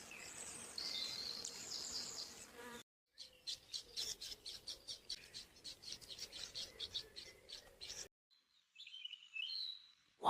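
Robins, song thrushes and wrens sing in a dawn chorus by a forest lake: dense bursts of chirping and trilling overlap in rapid succession, with a brief silent break and a sparser, fainter stretch of calls near the end.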